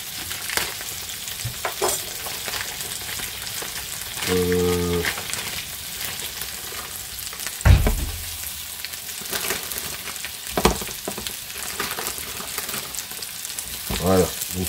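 Black pudding with onions sizzling and frying steadily in a pan, with occasional stirring scrapes and a few louder clatters over the continuous crackle.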